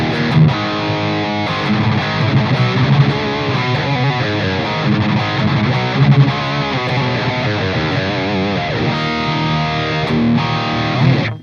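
Heavily distorted electric guitar through an ENGL Savage 120 amp-simulator plugin plays a continuous chugging riff with sustained chords, loud and saturated, with no voices.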